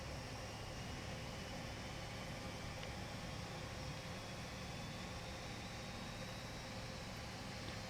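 The four jet engines of a BAe RJ100 idle in the FSX flight simulator, giving a steady broadband hiss and low hum that stays constant throughout with no talking.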